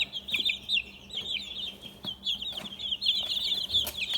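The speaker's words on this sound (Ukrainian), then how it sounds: "курчата Амрокс, це від Марини, які ми замовляли в неї" Two-week-old Amrox chicks peep constantly in rapid high chirps, many overlapping at once, close by with no talking.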